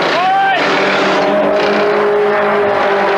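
A Holden Torana A9X race car's engine runs steadily during a Bathurst 1979 pit stop, a loud continuous roar throughout, with a brief rising whine near the start.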